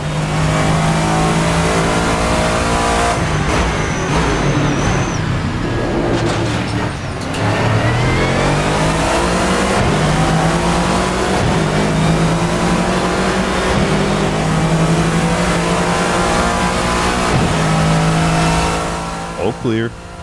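BMW M6 GT3 race car engine in the video game Assetto Corsa, loud and continuous, revving up through the gears with sharp shifts, a brief dip around the middle and the note fading at the end.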